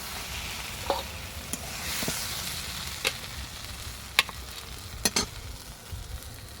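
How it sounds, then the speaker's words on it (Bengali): A potato-style stuffing fries in a pan while being stirred, with a soft, continuous sizzle broken by occasional sharp scrapes and taps of the spoon, close by and alone without talk. "আরও এক মিনিটের মতো নাড়াচাড়া করে নামিয়ে নেব"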